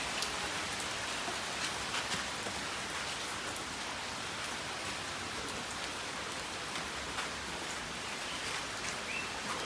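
Sudden morning rain in rural Bengal keeps up a steady, close hiss of drops on surfaces, with a few sharper patters and a faint bird call in the background.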